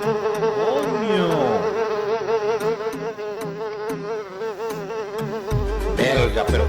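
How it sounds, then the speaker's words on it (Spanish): A housefly buzzes close and loud in a room, its wavering drone rising and falling continuously as it circles, with a brief thump near the end. "pero qué ladilla con esta mosca de pana"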